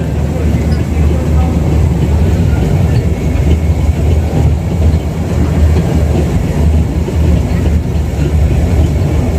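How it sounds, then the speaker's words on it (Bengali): Steady low rumble and rhythmic clatter of a moving bullet train heard from inside a carriage, constant and fairly loud, with faint voices in the background. "আমরা বুলেট ট্রেনে আছি এখন"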